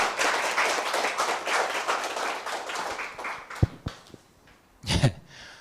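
An audience claps warmly for a guest lecturer at a history talk. Steady applause fades after about three seconds, leaving a few scattered claps and knocks, then a brief final burst.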